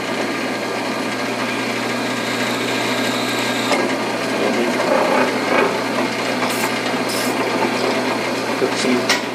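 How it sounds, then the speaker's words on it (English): Steady whir of a drill driving a straight flute reamer through a hole in metal for aircraft wing brackets, a continuous grinding hum held at even level for the whole stretch with a few brief higher scrapes near the end. "let's see if I can drill and ream a hole"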